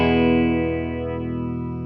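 A guitar chord rings out through a flanger effect pedal with depth added, a sustained distorted tone decaying slowly while a sweeping, swirling comb-like shimmer moves through it.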